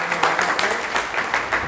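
Brief burst of close, loud audience clapping at a community anti-drug campaign gathering, many hands striking together in a dense, lively patter.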